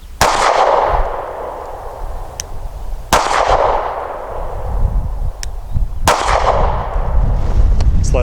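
A Sig P365 pistol firing Remington UMC 124 grain full metal jacket rounds: three loud, sharp shots about three seconds apart, each followed by a ringing outdoor echo and faint metallic clinks between shots.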